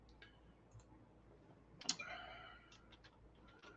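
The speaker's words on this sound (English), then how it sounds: "I'm typing in the chat" Clicks of typing on a computer keyboard while posting in a livestream chat, quiet and scattered, with a slightly louder cluster of keystrokes in the middle.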